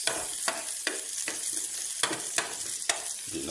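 Tomatoes sauté in a pan for sarciadong bangus, a bright continuous sizzle with several sharp scraping strokes of a spatula at an even rhythm, close up and without speech.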